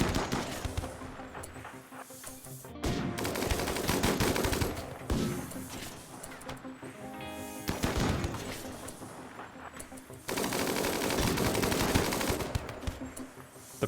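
Gunfire in RimWorld Odyssey crackles in dense, loud volleys during a colony battle, with sniper shots mixed into rapid bursts that come in waves separated by short lulls.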